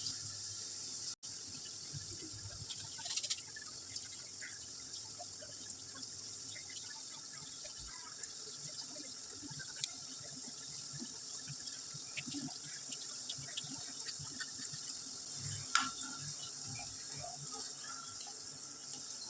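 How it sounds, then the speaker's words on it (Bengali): Sugar syrup for rasgulla boils steadily in a pot with balls of chhana cooking in it, giving a continuous close bubbling hiss with small pops and no talking. "দেখুন মিষ্টির জলটা আমার ভালোই ফুটে উঠেছে।"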